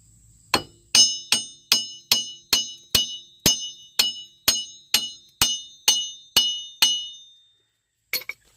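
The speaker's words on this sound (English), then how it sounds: "let's see if I can get it just by smacking around on it." About fifteen sharp, ringing metallic hammer blows land at a steady rhythm on a seized front wheel bearing hub of a 1998-2003 Dodge Durango, each one bright and clanging with a short decay, close up with no talk, then a brief double tap after a pause.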